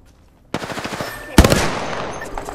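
Automatic weapon fire in Apex Legends: a rapid burst of close, loud shots kicks in, then a heavier blast hits and rings out into a fading tail.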